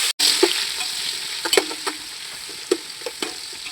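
Chopped onions sizzle and fry in a pan for Palakkad Rawther-style beef biryani, with a steady hiss broken by a few sharp stirring scrapes and clinks close by.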